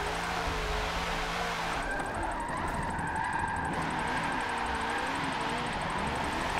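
Race car in Forza 7 driven hard and sideways, a steady loud engine drone with shifting revs and faint tire squeal running throughout, alone without talk.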